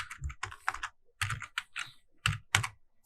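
Typing on a computer keyboard during JavaScript coding, with close, loud bursts of clattering keystrokes separated by short pauses and no talking.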